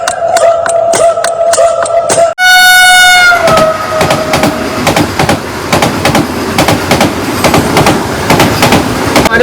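A train passes a lowered railway level-crossing gate near Kakinada port, its horn blaring loud and close before the wheels take over with rhythmic clickety-clack and metallic squeals as the wagons roll by.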